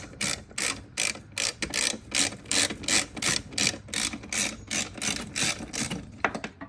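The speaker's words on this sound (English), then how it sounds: "Now let's just remove the one in the back, which is the 10 millimeter." A ratchet wrench works loose a 10 mm bolt on a fuel filter, giving a steady series of sharp, close clicking bursts in an even rhythm, alone with no talk.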